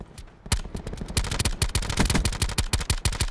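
Gunfire in Call of Duty Blackout, a battle royale shooter: loud, close bursts of rapid shots overlapping into a dense fusillade with uneven rhythm throughout, no talking audible.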